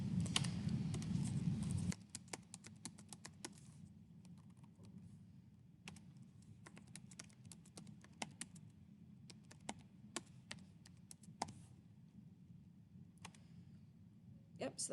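Someone types on a computer keyboard, entering an equation into Desmos in scattered bursts of quick, faint clicks and taps at close range, after a brief spell of voice at the start.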